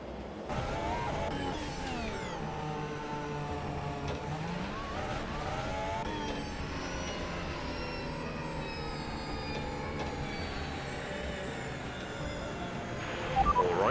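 Race car lapping a track in the video game Planet Coaster 2, engine whine rising and falling through the gears with several pitch sweeps, steady and moderately loud.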